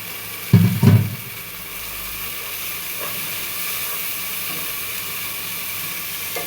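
Water splashed into beef masala frying in a pan for beef bhuna gives a sharp, loud sizzling burst. It settles into a steady steaming hiss that carries on to the end, with no talking.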